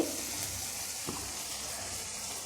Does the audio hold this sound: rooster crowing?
no